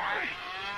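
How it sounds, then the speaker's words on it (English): Cows moo on a farm, one drawn-out low call that bends downward, fairly close and clear, with no speech over it. "I think I hear the voices of some farm animals. Cows."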